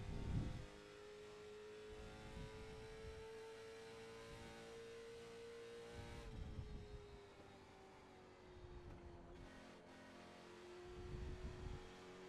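Race car engine in the iRacing simulator holds a steady high drone that shifts pitch as it changes gear and accelerates, with a constant mains-like hum underneath and no talking.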